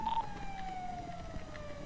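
Sirens wail somewhere in the distance, a steady, faint rising and falling tone that drifts beneath a low background rumble, with no voices in between.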